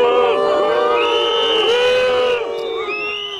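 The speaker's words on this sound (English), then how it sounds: "Factory workers whose jobs are under threat booed Mr. Macron" Factory workers whose jobs are under threat loudly boo and jeer French President Macron. Many overlapping voices rise and fall in drawn-out yells, close and forceful, fading slightly near the end.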